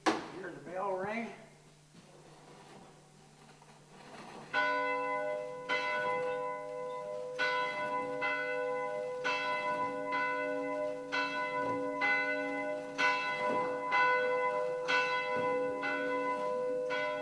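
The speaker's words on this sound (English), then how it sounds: "Hear the bell ring." A bell inside an old building on a cemetery tour in Jefferson County, Iowa, rings out in repeated resonant strokes at a steady pace, sustained tones layering and ringing on; someone talks briefly beforehand.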